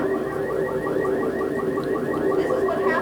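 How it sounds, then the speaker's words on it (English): Burglar alarms go off after a brief, strong earthquake jolt, a loud continuous electronic warble cycling rapidly and evenly throughout, close by with no voices. "Burglar alarms were set off."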